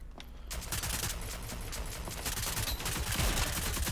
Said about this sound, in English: Can put some shots into him.